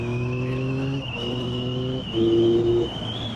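A Yamaha MT-09 SP motorcycle engine drones steadily at high revs in fourth gear, its pitch holding fairly constant with a brief surge near the end; no talking.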